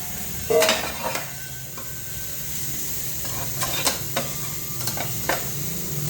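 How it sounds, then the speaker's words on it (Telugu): Brinjal fry with chili powder is stirred in a pan, a spoon clinking and scraping the metal in scattered strokes over a faint sizzle, with no talking. "మనం ఒకసారి మళ్ళీ కారం అంతా ముక్కలు పట్టేలాగా కలుపుకోవాలి"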